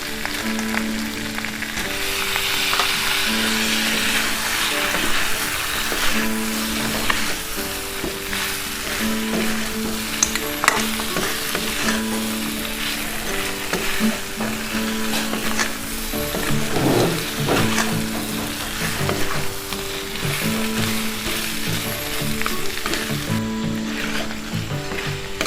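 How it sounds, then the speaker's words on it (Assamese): Mutton and potatoes frying in ghee in a pan, a continuous loud sizzle and crackle with faint stirring scrapes throughout and no talking. "আৰু অলপ সময় ভাজিম।"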